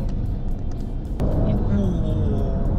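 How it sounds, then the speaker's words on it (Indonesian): Aston Martin car driving fast with a steady engine roar close by, rising in loudness partway through as it speeds up, mixed with cabin noise and a voice talking. "Ini kenceng juga nih guys mobilnya. Mobil Aston Martin."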